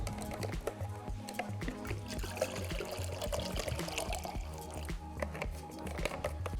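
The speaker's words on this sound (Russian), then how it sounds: "Так, заливаем воду." Water pours and trickles into the pot of a JetBoil camping stove, a close series of gurgling splashes and dribbles that rises and falls in uneven pulses, with no talk over it.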